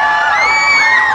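A pageant audience in Valenzuela cheers and shouts in one loud, brief burst of raised, whooping voices.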